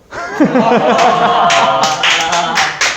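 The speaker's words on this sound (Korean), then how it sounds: "뭘 박수를 쳐" Students in a classroom break into a few scattered claps near the end of a history lesson, with talk and chuckling over them.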